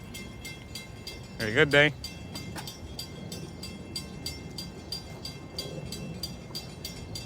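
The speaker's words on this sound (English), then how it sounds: "Finally a diesel train." Diesel MP15 AC locomotive rolling past at Bethpage with a steady rumbling drone and rhythmic rail clatter through the clip, while a voice speaks briefly over it.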